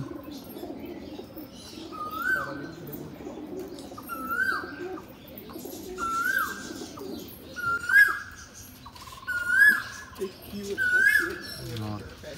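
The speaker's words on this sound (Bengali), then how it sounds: "এটা একটা নর পায়রা।" Male and female Giribaj pigeons at a sale in Ichapur, West Bengal coo repeatedly in a steady series of rising-falling calls, about six in a row, close by, under ongoing talk and background chatter.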